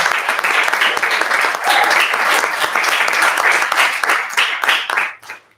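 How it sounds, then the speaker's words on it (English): An audience at an end-of-project community event applauds loudly and continuously, a thick close wash of clapping that runs for several seconds before it trails off at the end. "So round of applause for making it through."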